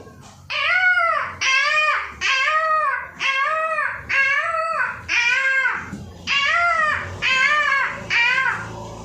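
At a village government primary school, a student's voice repeats a loud, wailing call about nine times in a steady rhythm, imitating a peacock's cry.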